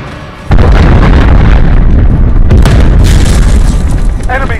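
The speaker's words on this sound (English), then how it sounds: "Allied cruise missile away." A cruise missile strike lands in Call of Duty: Modern Warfare multiplayer, a loud, sustained booming blast that erupts suddenly and rumbles heavily for several seconds, with faint game voice chatter and radio callouts over it.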